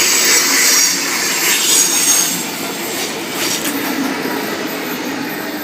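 A Sydney Trains service pulls away from platform 2 at Warrimoo, its wheels and carriages rumbling in a steady, fairly loud roll with high metallic hiss and faint squeal, continuous throughout with no voices.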